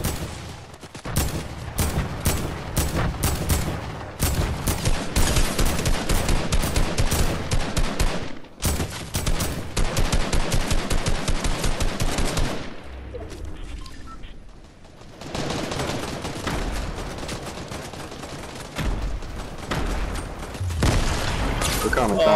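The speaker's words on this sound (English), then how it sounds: "I'm gonna shoot the last one on his way out" Rapid automatic gunfire in the video game Fortnite rattles in long, loud, near bursts with short pauses between, while players talk over it.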